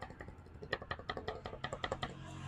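A worn, loosened bush in a steering assembly whose rod has rusted from water exposure gives a rapid, fairly even run of light clicking rattles, close but quiet.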